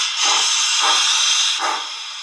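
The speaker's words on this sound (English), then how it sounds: "it detects the braking signal and stops the locomotive" Lenz O gauge model locomotive braking and coming to a stop, a steady loud hiss with three soft surging whooshes, close and alone with no talk.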